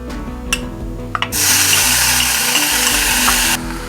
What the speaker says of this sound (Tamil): மிதமான தீயில் இது வறுபடட்டும்